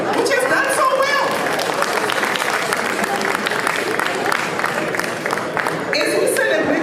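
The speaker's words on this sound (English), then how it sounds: "You must clap for Houston, which has done so well." A crowd at an Africa Day celebration in Houston claps steadily, a full, sustained round of applause mixed with cheering and crowd chatter throughout.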